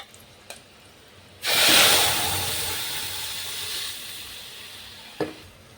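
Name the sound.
garlic and spinach frying in tadka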